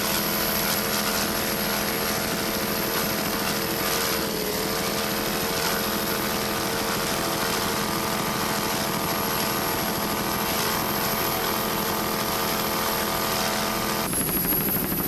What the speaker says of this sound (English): This Black Hawk helicopter is serving as the Angel helicopter during this event here in Lake Winnipesaukee